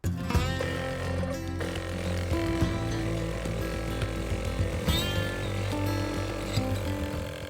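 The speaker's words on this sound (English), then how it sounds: "The nearest thing I've got is my Makita tyre inflator" A Makita cordless tyre inflator runs steadily throughout with a loud, continuous motor whine and buzz, blowing dust out of drilled holes through a tube, with no talk.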